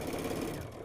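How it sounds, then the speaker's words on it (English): A domestic sewing machine stitches the side seam of a small quilted fabric basket, driving through several layers; a steady, close mechanical whir runs without pause. "Take your pin out as you approach with the sewing machine there"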